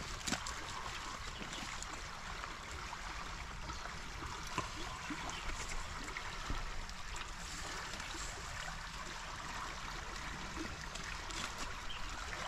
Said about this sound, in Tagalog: Ang ganda ng agos.